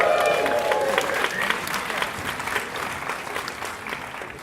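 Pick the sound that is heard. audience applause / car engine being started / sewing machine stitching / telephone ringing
audience applause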